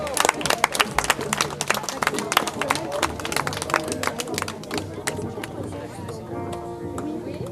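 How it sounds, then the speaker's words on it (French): Crowd at a Leucan head-shaving event gives a lively round of applause for Alexis, dense rapid clapping close by with crowd chatter underneath, easing slightly toward the end. "Une bonne main d'applaudissements pour Alexis."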